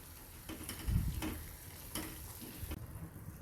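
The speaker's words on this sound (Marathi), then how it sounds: "आता आपण त्यात फ्राय केलेली कांद्याची पात ॲड करूया" Fried spring onion greens are sautéed into a simmering masala for a dal curry, soft scraping stirs and light sizzling at low volume with a few dull knocks, no talking.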